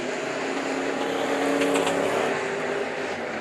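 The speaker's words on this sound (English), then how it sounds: "The 869 just does not sound good, because that car is clunking down the back straightaway." A race car at Bakersfield Speedway runs down the back straightaway, its engine a steady distant roar that sounds rough and clunking.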